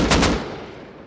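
Burst of gunfire from a survival game base raid, two quick loud shots up front followed by a decaying boom tail, with no talking over it.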